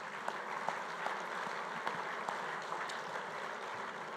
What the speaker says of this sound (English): a round of applause for Lexus of North Shore for their continued support